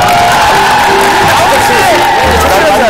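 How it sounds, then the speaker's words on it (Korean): Studio audience on a Korean variety show bursts into loud applause mixed with cheering and whoops, a dense, saturated roar with shouting voices riding over it throughout. "박수 한번 쳐주세요"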